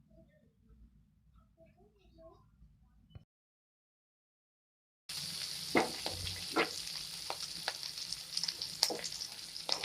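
Green chillies and curry leaves sizzle and fry loudly in an oil-filled pan after a quiet stretch with a short silent gap, with crackling pops scattered through the steady hiss.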